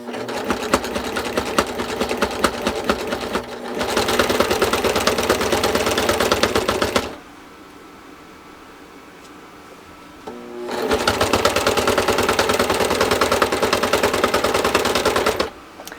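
A sewing machine stitches bias binding onto a baby quilt in two long, loud bursts of rapid mechanical chatter, separated by a quiet pause of several seconds.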